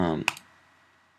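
A computer mouse clicks on a Mac while downloading software, with one or two quick, faint clicks right after a voice stops, and a last click at the very end.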